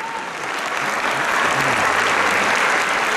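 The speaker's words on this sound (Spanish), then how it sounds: "les pido un fuerte aplauso" Sustained applause from an audience at a school farewell choir and dance show for sixth-year pupils, dense and steady clapping that swells slightly and holds for the whole stretch.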